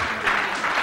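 A TV studio audience at a talent show claps in a brief, steady burst of applause.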